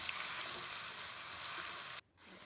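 Ginger-garlic paste hits hot oil with fried onion and chilli for a spicy chicken curry, giving a loud, close sizzle that drops away abruptly near the end, with no talking.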